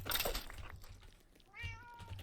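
Cat meowing in the Minecraft video game, a short rising meow near the end following a burst of game noise, with low rumbling in the background.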